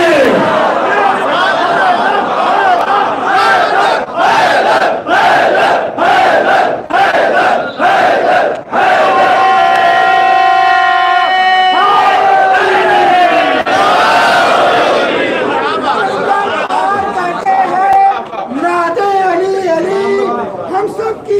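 A large majlis crowd in Kuwait chants religious slogans in loud rhythmic bursts, voices swelling together in repeated call-and-response waves, close and dense throughout.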